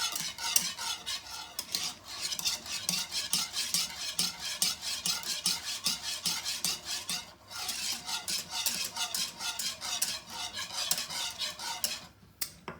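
A spoon stirs a smooth sauce of just-right thickness in a bowl, quick rhythmic clinking and scraping strokes repeating close up and steady, with a brief pause midway and a stop near the end.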